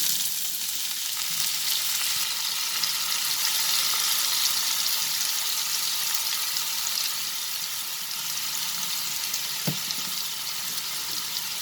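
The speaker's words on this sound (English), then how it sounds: "we will saute this till the onions become nice and translucent" Chopped onions sauteing in hot oil with dried red chilies for a prawn curry with coconut milk, a steady soft sizzle with no talking.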